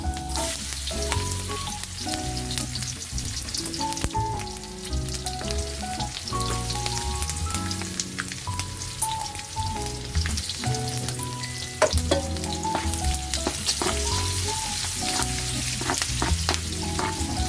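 Garlic sizzling loudly in hot oil in a pan for Ilocano pork igado, a dense, continuous crackle and spatter with frequent sharp pops, close up and without talk.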